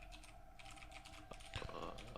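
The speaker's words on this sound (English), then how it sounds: "I don't know why I'm typing this in another screen." Soft typing on a computer keyboard during a MapleStory gaming session, a few quiet scattered key clicks growing busier toward the end over a low room hum.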